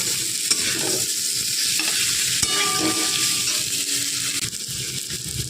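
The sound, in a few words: stirring spice paste with frying potatoes in a pan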